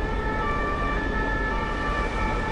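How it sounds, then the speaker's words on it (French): A police siren wails in a chase scene, a loud steady electronic tone with layered harmonics holding over a low engine and road rumble, and no speech. "Le policier lent partit à sa poursuite avec sa sirène et ses feux clignotants."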